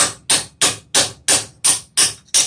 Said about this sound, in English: Pretty much you just hammer on these until the edges close up or close together.